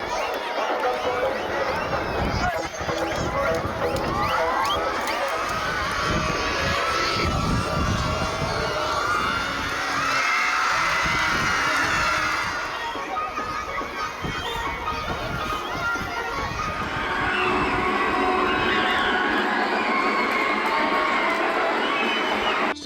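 Schoolchildren's crowd cheering and shouting at a Krishna Janmashtami pot-breaking celebration at Swami Vivekananda School in Hukkeri, a sustained loud dense roar of young voices with excited yells and lively chatter.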